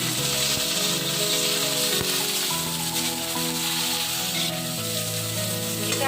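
Potatoes frying in hot oil with a mustard seed tempering, a loud, dense, continuous sizzle close up, with a steady tonal hum running underneath throughout.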